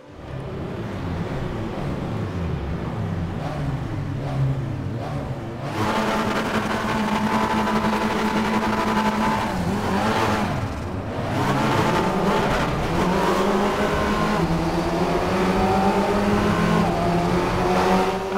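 Several race cars in the RaceRoom racing game launch from the start together, engines roaring loud and continuous with rising revs and gear changes, the pack's noise swelling and overlapping throughout, no talk.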